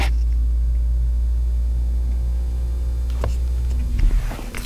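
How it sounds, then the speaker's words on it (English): Brake vacuum pump running in a Tesla Model S, a steady low electric hum with faint rumble held throughout, plus a few brief clicks and rustles near the end. "That was the vacuum pump running"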